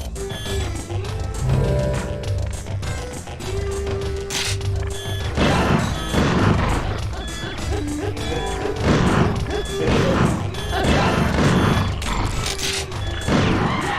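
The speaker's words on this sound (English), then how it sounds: "I'm hitting you with a giant metal key" Repeated heavy clanging hits from a giant metal key striking a glass enemy in a video game fight, loud crashing impacts over dense game music and effects, with people talking throughout.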